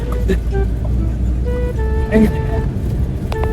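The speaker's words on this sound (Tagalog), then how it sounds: "Pumunta nang nakasasakyan naka-tricycle pagbalik" A motor tricycle rides along a road, its low engine rumble and passing traffic steady throughout, with a few brief higher tones and people talking over it.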